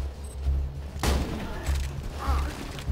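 Gunfire from a weapon in the Borderlands 2 video game: a sharp loud shot with a booming tail over a constant low game rumble, followed by fainter effects.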